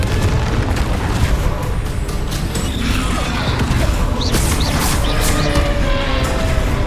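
Confringo fire spell explosions in the game Hogwarts Legacy: dense, loud booming blasts and crackling bursts over continuous battle noise, with several sharp bursts toward the end.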